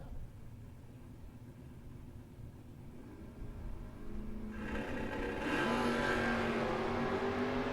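A 1992 Corvette and a 1969 Camaro launch at a drag strip, engines swelling from a low idle rumble into loud, rising roars as they accelerate away, heard from trackside.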